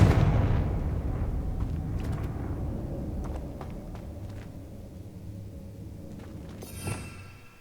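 A Confringo blast spell goes off in Hogwarts Legacy: a loud, booming explosion with a long rumbling decay, followed by faint scattered clicks and a brief hiss near the end.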